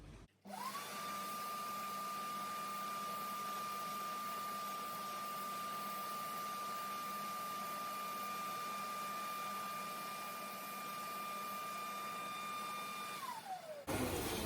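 A Vax Dual V Advance carpet washer runs steadily for about thirteen seconds with a loud, even motor whine, then winds down at the end; no one talks.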